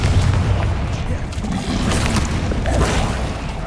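A Confringo blasting spell explodes in Hogwarts Legacy: a continuous, loud, rumbling burst of booming blast noise that fills the whole moment up close, with no speech over it.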